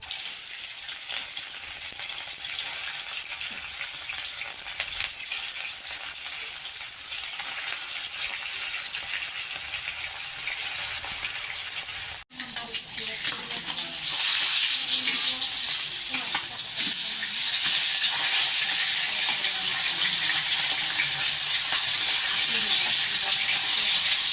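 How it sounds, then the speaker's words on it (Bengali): Continuous loud sizzling of rohu fish frying in hot oil, briefly interrupted midway, then resuming with stronger, crackling spatter. "এখন আমি মাছগুলো ভেজে নেব।"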